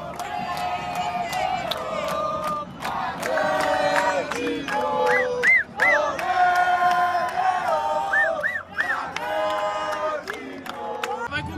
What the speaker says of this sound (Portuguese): Estamos dentro da torcida do Red Bull.